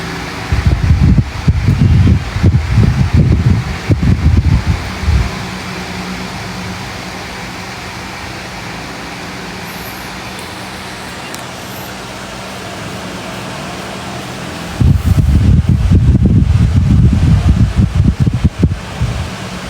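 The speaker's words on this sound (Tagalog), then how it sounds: "Ang ingay ng electric fan." An electric fan runs indoors at night as a steady, even whir throughout, with louder rustling bursts at the start and near the end.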